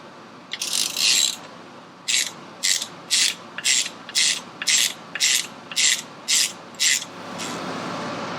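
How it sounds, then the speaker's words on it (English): A ratchet wrench works loose a stock Harley motor mount, with about a dozen close, evenly spaced clicking strokes in a steady rhythm and a brief pause after the first few. "So we're going to try to remove the motor mount."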